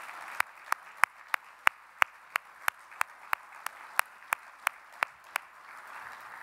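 Audience applause at an industry icebreaker luncheon for the ESX 2012 trade show, as the board members stand to be recognized: sharp, evenly spaced claps ring out close by over a steady, softer wash of crowd clapping.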